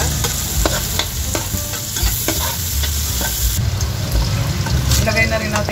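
Garlic and onion fry loudly in a pan for buttered shrimp, a dense close sizzle with repeated clacking stirs of a spatula, and a quick bright burst of fresh sizzling midway.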